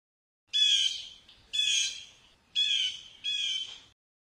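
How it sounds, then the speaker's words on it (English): A blue jay calls four times, harsh raspy squawks each lasting about half a second with short gaps between, clear and close against silence. "Blue jay."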